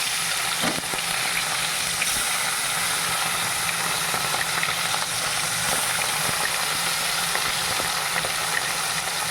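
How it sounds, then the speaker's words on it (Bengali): Marinated fish frying in hot mustard oil in a pan gives a loud, steady, dense sizzle that crackles without a break, with faint stirring and no voices. "এই সর্ষের তেল গরম হয়ে গেছে। এবার আস্তে আস্তে ম্যারিনেট করা মাছটাকে"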